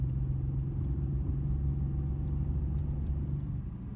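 A Subaru Justy 4WD with no muffler drives in third gear, its engine giving a loud, steady, throaty drone that stays near and even throughout, with no talking.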